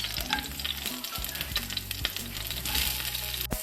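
Mushrooms sauté in a pan, giving a steady close sizzle with occasional stirring scrapes and clinks throughout, and no voices.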